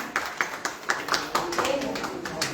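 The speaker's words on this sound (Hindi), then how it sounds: "माधव की ग्रैंड पेरेंट्स के लिए प्लीज तालियां हो जाए।" An audience at a Grandparents Day celebration claps for grandparents in a sparse, irregular patter of individual hand claps, fairly close, with voices murmuring underneath.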